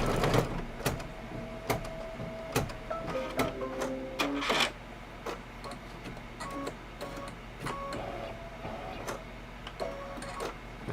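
An embroidery machine sews a placement stitch on fabric for a table topper, with steady ticking needle pulses broken by short beeps and whirring carriage moves, close and alone.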